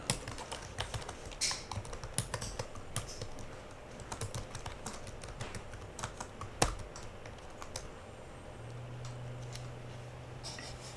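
Typing on a computer keyboard while entering a comment into a web form, producing a steady run of quiet, irregular key clicks with a few sharper taps, close and unaccompanied by talk.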